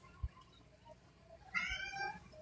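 A cat meows indoors, a short high-pitched call near the end preceded by a faint low thump, otherwise quiet room tone.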